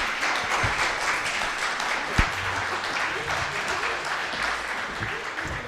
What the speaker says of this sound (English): Please give our panelists a huge round of applause.